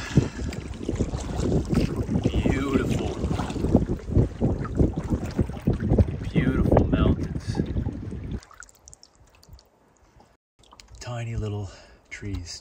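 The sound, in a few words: headwind blowing while canoeing on a lake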